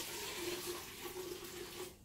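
Ginger juice poured from a bowl into a vase as a faint, steady liquid trickle lasting about two seconds before it cuts off, with no talk.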